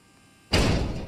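Door opening in the Doors video game, an abrupt loud thud followed by a sustained rumbling whoosh after a quiet moment.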